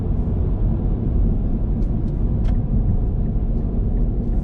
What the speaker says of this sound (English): a little car like this with little low profile tires